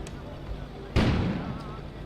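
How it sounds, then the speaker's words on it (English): A single muffled explosion outside in the snowbound game Kona, a sudden deep boom about a second in that fades slowly over a low ambient hum. "An explosion suddenly occurred outside."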